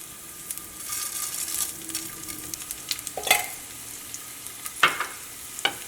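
Garlic frying in a pan with golden-browned fenugreek seeds for a Kerala onion-chili chammanthi, a steady soft sizzle broken by occasional scrapes and clinks of stirring, close and moderately loud with no voices.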